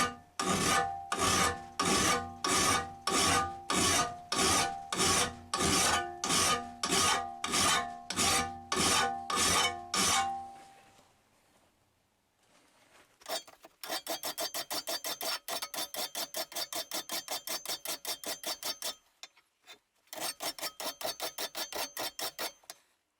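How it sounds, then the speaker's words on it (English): Rhythmic rasping of a file rough-filing an old axe head, long regular strokes at first, then after a pause a faster, steadier run of short scraping strokes. "So I want to do all my rough filing first."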